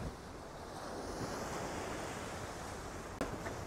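High-tide sea waves wash over Patuartek beach at Cox's Bazar, a steady broad roar of surf mixed with buffeting wind noise on the microphone, with no speech.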